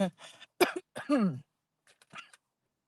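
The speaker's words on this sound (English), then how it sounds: "child, that rice grain almost choked me" A person coughs and clears their throat after nearly choking on a grain of rice: a few sharp, rough bursts in the first second and a half, then fainter, shorter hacks after a brief pause.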